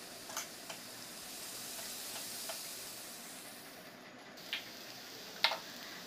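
Onions frying in oil in a pan while being stirred, a steady low hiss with a few faint scattered ticks and clicks, fairly quiet and without voices.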